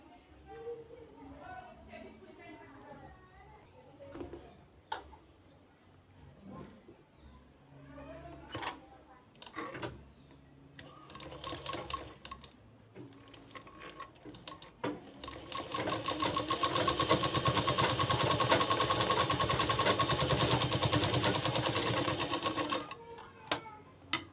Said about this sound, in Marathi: डबल आपण एकदा शिलाई करून बघूयात